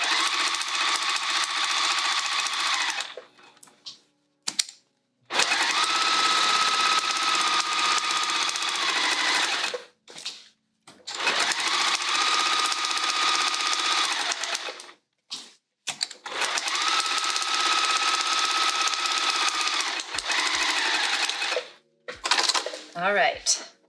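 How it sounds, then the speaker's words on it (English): A sewing machine bastes a quilted pouch at a long stitch length, running in three sustained loud bursts of fast mechanical chatter with short gaps and small handling clicks between. "I'm gonna turn it up to a stitch length of 5 on my machine"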